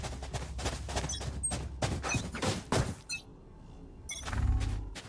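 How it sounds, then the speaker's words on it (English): Bursts of rapid gunfire crackle in a Valorant esports match as teams push toward the B bomb site, dense volleys and single shots stacking up close, with a commentator's voice running underneath. "Early gunfire raining down, pre-firing where it could be."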